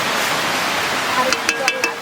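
Water poured into a mustard and poppy seed paste for a pabda fish curry makes a steady, close rushing hiss that runs throughout, with a few faint clinks near the end.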